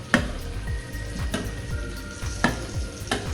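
Ginger-garlic paste sautéing in hot oil for mutter paneer, a steady close sizzle with recurring scraping stirs of a spatula against the pan, no talking.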